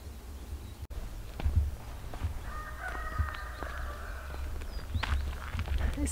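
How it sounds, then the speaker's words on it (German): A rooster crows in a village by a lake, a moderately distant, drawn-out cock-a-doodle-doo rising over quiet outdoor ambience with faint footsteps and scattered thumps. "Der Hahn."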